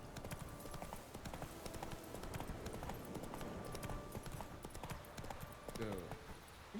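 Roach, a horse in The Witcher 3 video game, gallops with a rapid, continuous clip-clop of hooves throughout, moderately loud alongside game ambience.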